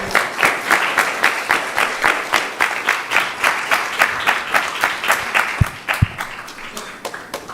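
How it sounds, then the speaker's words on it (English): A crowd applauds after a class at a Sunday feast program, steady rhythmic clapping in unison filling the room, with a few louder claps near the end. "Please give him a big round of applause."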